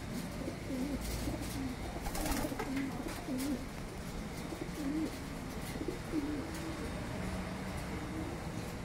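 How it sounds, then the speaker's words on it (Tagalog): Pigeons coo repeatedly while being fed during training, soft throaty calls rising at intervals over a constant noisy outdoor background. "bigay natin sa mga ibon natin"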